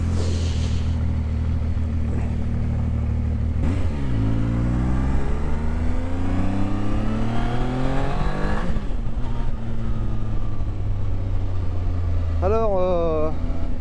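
A Zontes 703 F Adventure motorcycle pulls away in third gear and accelerates hard, engine pitch climbing through several gears, loud and close, with another rev rising near the end.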